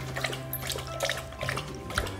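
A dog named Bella laps up drinking water in quick, repeated wet splashes, close and fairly quiet, with no talking.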